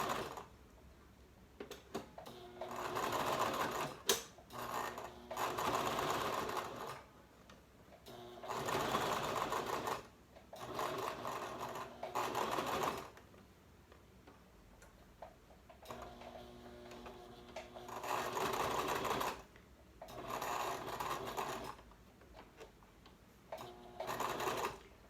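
A sewing machine stitches the pleats of a medical mask in several bursts of fast, whirring stitching, separated by quieter pauses.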